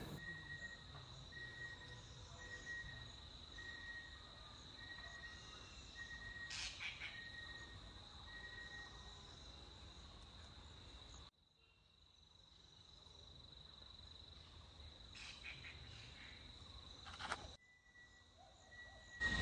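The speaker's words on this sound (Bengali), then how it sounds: "এখন এখানে কত রকমের পাখির আওয়াজ শুনতে পাওয়া যাচ্ছে।" Birds call in the forest at Latpanchar, a bird-rich hill area, with a steady high chirping and insect-like trill throughout, a few sharper calls rising briefly, fairly faint and distant with no talking.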